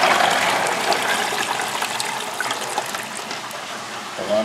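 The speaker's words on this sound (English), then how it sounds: "So now we're gonna strain it out. I'm gonna pour it right in there" Homemade Jamaican ginger beer poured through a strainer, a continuous close splashing trickle that rushes strongest at first and then eases slightly before surging again near the end.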